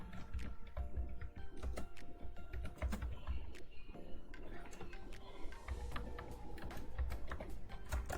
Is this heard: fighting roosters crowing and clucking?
no